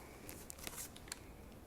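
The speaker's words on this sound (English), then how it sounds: "we're going to cut our red bag. And we're just going to snip the tip like we did on the other two" Scissors snip the tip off a red plastic piping bag while decorating sugar cookies, giving a few short, sharp, close cuts in a quiet room.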